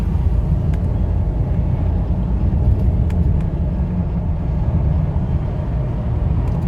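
A 2007 Ford Explorer Sport Trac V8 4WD accelerates through its gears at road speed, a loud steady low engine and road rumble heard from inside the cabin.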